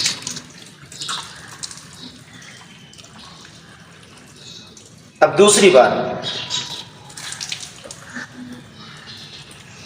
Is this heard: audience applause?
no